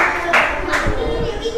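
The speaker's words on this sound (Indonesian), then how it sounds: "Kasih tepuk tangan buat Basit" Schoolchildren in a classroom give a short round of clapping for a classmate's answer, a few quick claps alongside a voice speaking.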